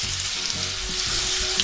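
Garlic frying in oil gives a continuous close sizzle with soft crackling and faint stirring scrapes, with no voices.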